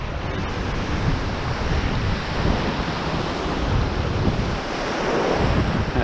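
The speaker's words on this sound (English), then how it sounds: "That tide's coming in nicely now." Ocean waves roll onto a sandy beach as the tide comes in, a continuous loud wash of surf blended with strong wind buffeting the microphone and no speech.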